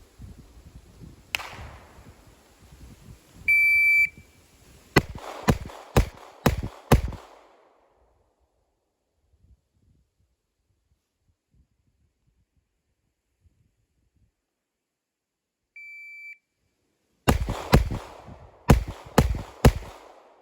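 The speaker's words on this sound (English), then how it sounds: "I will use the timer to get us started." A shooting timer emits two short electronic beeps at a pistol range with a Sig Sauer P365X, each beep followed by a rapid string of loud, sharp gunshots, with a long quiet gap between the two strings.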